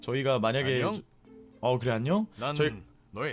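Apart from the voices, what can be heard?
No distinct noise like a dog, phone or traffic.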